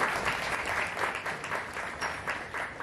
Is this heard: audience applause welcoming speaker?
yes